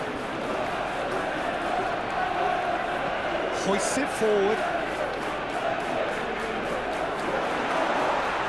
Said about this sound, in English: Crowd calling.